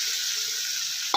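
Beans and vegetables sizzle and fry steadily in a pan for vegetable macaroni pasta, with a brief louder scrape of stirring at the very end.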